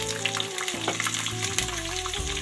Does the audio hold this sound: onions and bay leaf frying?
yes